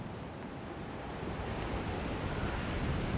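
Steady broadband wash of sea waves and wind at the Mediterranean shore in the video game A Plague Tale: Requiem, a continuous surf roar that swells slightly louder toward the end with no talking.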